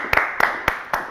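A live show audience greets a singer with a handful of loud, sharp claps spaced out over about a second, heard close and alone without talk.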